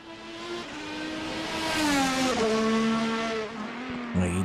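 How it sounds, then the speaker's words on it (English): A race car at the Emilia Romagna circuit slides its tires through a chicane, the engine note rising and falling in loud, close gear-shifting harmonics with a brief tire squeal, alone without talk. "he's sliding those tires through the first chicane."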